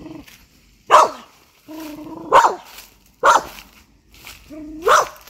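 A dog barks four times at a slow, even pace, each bark sharp and fairly close, with quiet pauses between.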